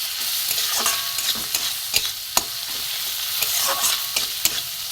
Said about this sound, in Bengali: এখানে অল্প করে লঙ্কার গুঁড়ো দিয়ে আমি এটা কষিয়ে নেব।